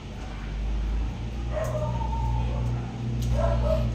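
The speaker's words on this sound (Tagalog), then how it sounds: "O, narinig nyo yon? Nag-aaway-away sa labas." Dogs fighting outside yelp and whine in short bursts at a distance over a low steady rumble, two separate flurries of agitated barking.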